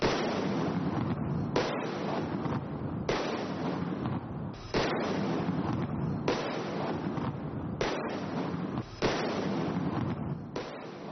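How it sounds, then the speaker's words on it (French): Fireworks launched by artist Cai Guo-Qiang burst in a steady, dense barrage of loud crackling booms, one volley running into the next with brief dips between, and no voices. "les feux d'artifice que Tsai Guo-chiang avait lancés étaient tous les mêmes"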